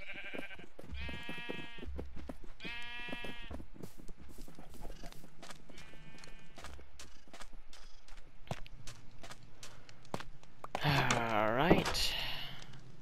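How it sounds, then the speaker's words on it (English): Sheep in a video game bleat several times in a row, some overlapping, close and clear, followed near the end by a louder, noisier burst of game sound. "There's an absurd amount of sheep."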